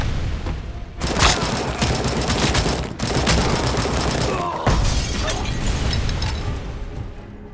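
Grenade explosions in RoboCop: Rogue City as enemies blow themselves up: sharp booms and shattering debris with crackling bursts of fire, loud and busy throughout, breaking off briefly twice before resuming, with no voices.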